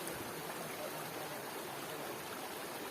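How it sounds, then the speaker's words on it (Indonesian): A river stream flows steadily along a mountain trail, a continuous broadband rush of water at even loudness throughout, with no voices. "Jadi kita baru nyampe ke aliran sungai ya"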